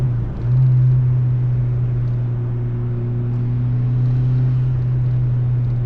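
A turbocharged Mazda MX5 NA runs at a steady cruise, with a low droning engine and intake hum and a sustained tonal whine from inside the car, and no clear dump valve release standing out.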